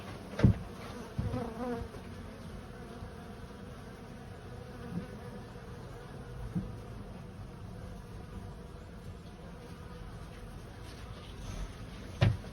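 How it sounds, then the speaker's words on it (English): Continuous buzzing of many Slovenian-hive honey bees being moved down and readied for winter, a steady drone throughout with a few louder knocks and bumps nearby. "A lot of bees up in there yet."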